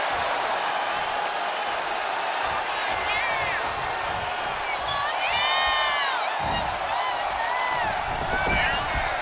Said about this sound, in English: Lexis King playing to the crowd now.